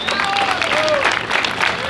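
Audience applause at a tournament final, a steady dense clapping wash with a crowd voice rising over it, loud and continuous throughout.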